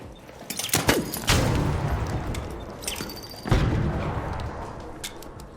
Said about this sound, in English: this guy's calling an artillery strike on me